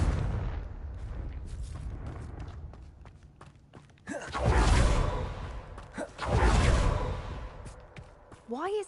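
A Confringo fire spell from Hogwarts Legacy bursts with two heavy, booming explosions a couple of seconds apart, each with a whooshing fiery rush, preceded by quieter ambient game sounds.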